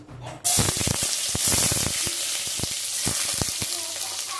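Carrots hit a hot wok of oil for egg chicken chowmein and burst into a loud, dense sizzle that holds steady with crackling pops and scraping stirs.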